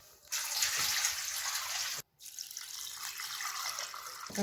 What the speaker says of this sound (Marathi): हे तांदूळ दोन पाण्यानं धुवून घेऊया